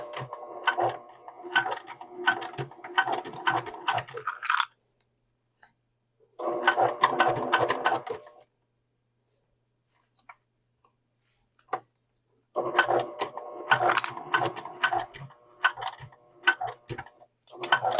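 A sewing machine stitches a fabric mini pouch in three bursts of rapid, even mechanical ticking, close and loud, separated by quiet pauses and a few isolated clicks.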